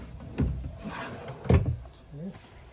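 Drawers in a 2021 Wildwood 40FDEN RV slide open and shut, giving two soft knocks with brief sliding rumble, close by against low background noise.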